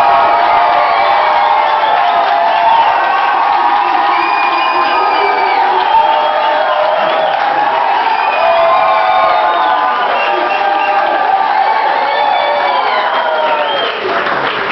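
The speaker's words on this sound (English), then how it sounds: "I want to start cheering, go nuts" A large crowd at a wrap celebration cheers and whoops on cue, a dense and loud sustained roar of shouting and applause that holds steady throughout.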